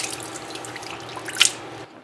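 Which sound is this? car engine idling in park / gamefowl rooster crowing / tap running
tap running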